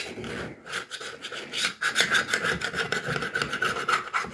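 A small spatula scrapes hashbrown quiche from a round baking dish in repeated close, rasping strokes, a brief pause early on, then a steady run of gritty scrapes.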